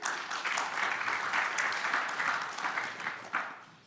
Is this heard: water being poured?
no